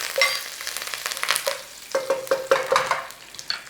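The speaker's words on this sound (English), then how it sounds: "mustard seeds, a nice little sizzle on there" Mustard seeds and curry leaves crackle and sizzle in hot oil, with sharp little pops scattered irregularly throughout, close up.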